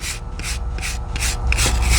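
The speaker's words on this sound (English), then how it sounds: "I'm really scrubbing this thing hard to get this dirt out of here" A wire brush scrubs hard at dirt on an epoxy floor, making quick rhythmic scratchy strokes about four per second, close and loud, with nothing else heard.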